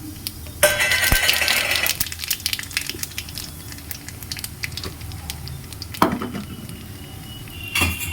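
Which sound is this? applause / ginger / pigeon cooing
ginger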